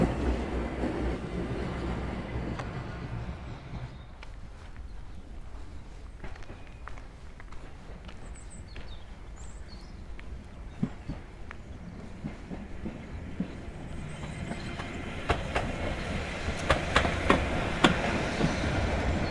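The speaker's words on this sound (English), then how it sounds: "this is the train coming from Grütschalp to Mürren" A mountain train from Grütschalp rumbles and clatters steadily into Mürren, Switzerland, growing louder near the end as it draws closer, with faint footsteps and ambient noise.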